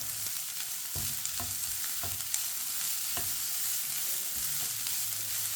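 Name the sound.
grated carrots cooking in a pan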